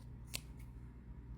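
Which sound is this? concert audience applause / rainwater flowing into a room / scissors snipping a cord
scissors snipping a cord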